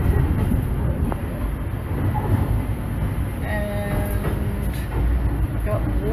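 A sleeper train pulls out of Hue, Vietnam, its wheels and carriage rumbling steadily close by with faint squeals and clanks, under a low murmur of voices in the cabin.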